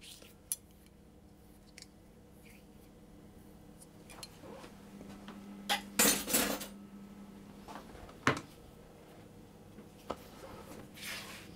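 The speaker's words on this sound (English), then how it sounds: "I'm going to just turn it over a few times with my spatula." Shortbread dough is turned over in a bowl with a spatula, giving soft scrapes and a few sharp clinks against the bowl in an otherwise quiet kitchen.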